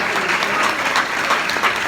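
An audience bursts into a steady, dense round of applause for a newly named regional director at a corporate gathering, the clapping loud and continuous throughout.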